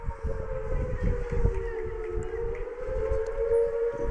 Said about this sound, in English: Jake Esker comes up to the plate with his air raid siren walk up